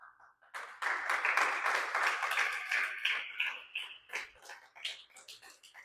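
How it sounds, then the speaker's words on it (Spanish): A church congregation claps, a burst of scattered applause that rises quickly, holds for a few seconds, then thins into a few lingering claps. "Denle un aplauso al Señor."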